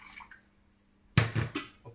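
Water poured into a kadhai, a quiet pause followed by a sudden splashing gush and a second splash, then fading trickles, close and fairly loud.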